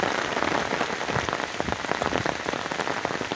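Heavy monsoon rain pours steadily onto surfaces outdoors in a rural village, a dense, continuous hiss of drops with no voices over it.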